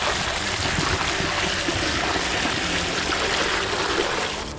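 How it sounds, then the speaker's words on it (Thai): Water pouring out through a leaking hole, a loud, continuous rushing gush that stays steady and close for the whole stretch, easing slightly just at the end. "เฮ้ยทำไมมีน้ำไหลมาวะเอ้ามีรูงี้อีกเหรอ"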